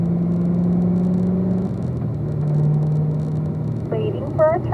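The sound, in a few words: car engine while downshifting on a driving course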